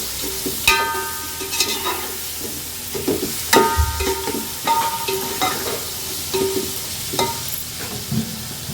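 Boiled vegetables stir-fried for vegetable fried rice, with a low sizzle under irregular metallic clanks and scrapes of a spatula against the pan, close up and without speech.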